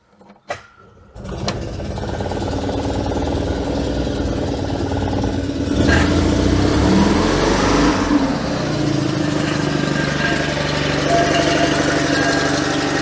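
An Invacar engine runs on choke after a few clicks and a brief crank, settling into a steady loud close chugging idle with a slight rise in pitch midway and a rattling mechanical drone throughout, no talking.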